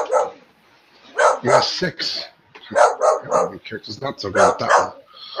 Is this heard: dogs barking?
yes